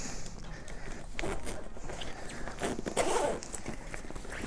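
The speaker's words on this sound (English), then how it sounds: "you can literally zip off this entire section and just use the backpack" The zipper on the side of an Osaka S21 Modular XL bag is pulled along to detach its backpack section, giving a continuous scratchy rasp with a few brief catches, fairly close and quiet.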